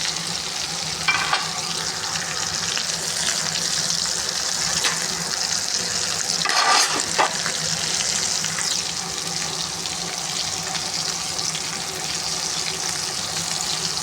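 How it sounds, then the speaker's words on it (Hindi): Aloo matar tikki patties shallow-frying in a pan until golden, producing a steady hissing sizzle throughout with a couple of brief clinks and scrapes, close and even. "इनको थोड़ा सा बस फ्राई करना है, गोल्डन सा कलर ही रहना है इनको।"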